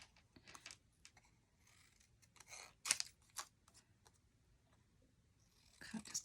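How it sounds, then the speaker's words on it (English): Scissors cut cardstock for a Stampin' Up! tri-fold gift card holder, giving faint, close snips and rustles in short, irregular bursts, with quiet handling noises between them. "And now I need my scissors."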